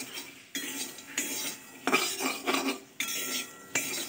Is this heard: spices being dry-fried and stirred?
yes